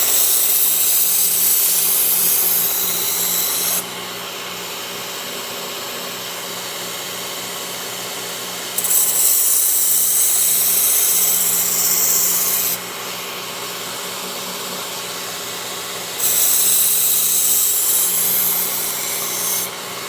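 Knife blade being sharpened with a steady abrasive rubbing and scraping, in alternating louder and softer passes, close and alone without talk.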